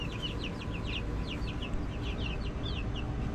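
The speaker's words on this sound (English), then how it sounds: "There's a yellow chicken over here." A yellow backyard chicken clucks in a steady run of short, repeated calls, fairly close, with no talking over it.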